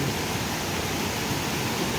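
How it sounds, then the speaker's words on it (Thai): A waterfall pouring out of a cave mouth in a natural setting, a dense, steady roar of rushing water that fills the whole clip. "มีน้ำตกมีน้ำไหลออกจากปากถ้ำ"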